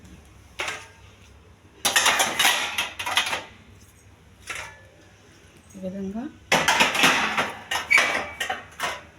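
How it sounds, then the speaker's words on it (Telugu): Metal and steel vessels clatter and clink in bursts as they are stacked into the lower tray of an IFB dishwasher, close and loud, with someone speaking between the bursts. "కింద ట్రేలో కూడా ఈ విధంగా అయితే గిన్నెలన్నీ పెట్టుకోవాలండి"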